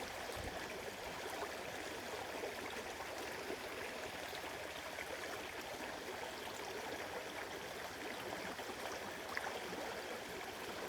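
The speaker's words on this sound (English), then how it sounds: "I'm in the river." River water flowing steadily, a continuous broadband rush and gurgle heard close and unbroken, with no voices.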